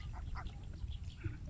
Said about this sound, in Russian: Мы кормим уточек.